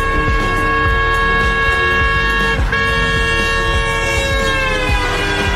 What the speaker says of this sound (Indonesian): suara sirine atau klakson mobil tiba-tiba berubah ketika telah melewati kita